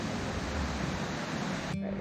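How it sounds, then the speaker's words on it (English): South Falls, a 177-foot waterfall in Silver Falls State Park, Oregon, gives off a dense, steady roar of falling water that fills the whole stretch at constant loudness, with no voices. "And waterfall number 9, South Falls."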